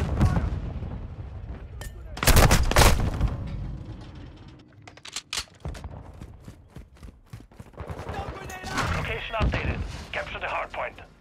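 Gunfire from the Call of Duty: Modern Warfare II video game, with loud bursts of rapid shots and scattered single cracks over battlefield noise, and game voices shouting between volleys.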